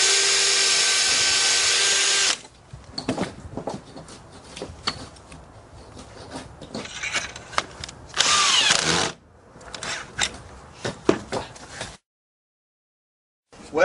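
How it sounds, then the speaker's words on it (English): A power drill bores a deck hole through a Kreg deck jig laid against a house, with a steady whine in the first two seconds, then scattered knocks and handling sounds and another short burst of drilling near the ninth second. "All I've got to do is lay the jig down, slide it over against the house, and drill this hole."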